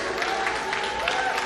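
A crowd at a 2015 Kentucky state auditor political event applauding, a steady wash of clapping filling the brief moment without a break.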